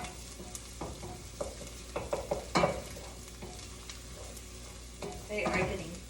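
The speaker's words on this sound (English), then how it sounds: "I'm going to go ahead and stir our onions." Onions fry in a pan with a steady soft sizzle while a utensil stirs them, giving scraping contacts and a few louder clanks. A swell of hiss and scraping comes near the end.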